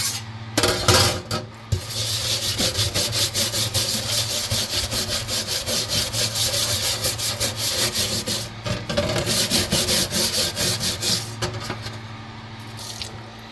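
A brush scrubs back and forth over a small rust-covered tag soaking in vinegar, producing steady, close, rhythmic rubbing strokes that continue almost without pause throughout.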